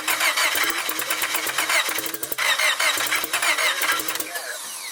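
A fully built turbocharged Honda Civic engine starts for the first time, cranking and catching into a loud, rough, pulsing idle, heard up close.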